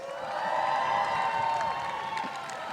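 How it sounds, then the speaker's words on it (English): A live audience at a Silverstone Formula 1 preview show cheers and applauds as Bernie Collins walks on stage, a broad, sustained roar of whoops and clapping that swells and then eases slightly. "Keep the applause going, please."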